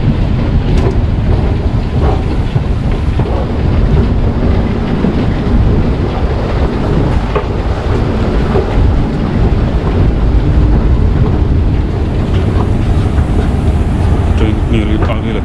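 A train runs through Vienna, heading toward Simmering, with a steady loud rumble and broadband noise that persists throughout, likely heard from nearby with wind buffeting the microphone.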